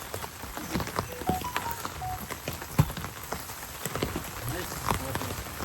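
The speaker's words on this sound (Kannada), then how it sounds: "ಮಳೆ ಬಂದ್ಬಿಡ್ತು ಅದಕ್ಕೆ" Rain patters on a surface at night during a camping trip at Ramanagara, near an old tiled-roof house from 1917, a soft continuous hiss with scattered louder drips and small knocks, moderately close.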